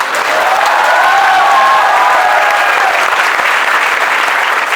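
Sustained audience applause at an academy celebration of NIMCET 2021 exam results, dense steady clapping filling the room with some cheering harmonics over it, loud and continuous throughout with no pause.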